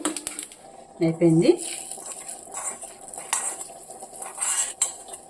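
A tempering of cumin, turmeric, dried red chili, asafoetida and curry leaves stirred in a pan for a snake gourd yogurt chutney, with a few metal clinks and scrapes of a spoon against the pan over a faint background.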